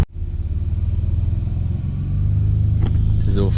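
Lowered Nissan R31 sliding in dirt, its engine droning loud and close with a steady low rumble that swells slightly as it revs, a brief rattle near the end, no talk.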